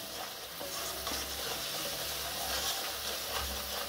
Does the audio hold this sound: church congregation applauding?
no